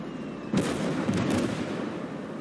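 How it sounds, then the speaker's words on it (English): Mortar or artillery shells land in Call to Arms: Gates of Hell, a couple of sharp distant impacts cracking over a continuous background rumble of battle. "They've obviously got a mortar or some artillery or something."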